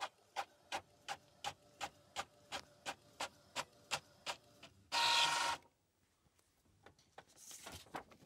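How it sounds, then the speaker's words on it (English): Epson EcoTank ET-4750 inkjet printer printing a test page, with about a dozen evenly spaced clicking head passes followed by a short loud whirring burst, a quiet pause, then softer mechanical shuffling. "Oh, now it's printing. It's a bit slow though"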